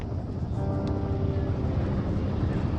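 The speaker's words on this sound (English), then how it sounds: "There's the helicopter." Steady low rotor drone of a helicopter, continuous and fairly loud, with a wind-like rumble underneath, in the video game Firewatch.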